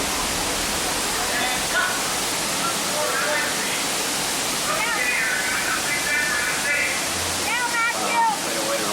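Roaring flood water rushes through Catastrophe Canyon on the Disney-MGM Studios backlot tram tour in Orlando, a steady broadband wash filling the whole stretch while excited passengers shout and talk over it.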